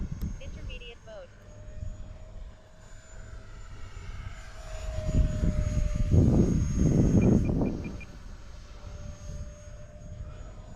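A tiny MB-339 radio-controlled model jet whines past nearby, swelling to a louder rushing pass in the middle before fading, with a thin steady tone and a person talking over parts of it.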